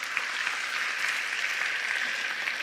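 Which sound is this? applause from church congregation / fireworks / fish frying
applause from church congregation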